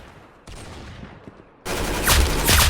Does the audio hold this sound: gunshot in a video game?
yes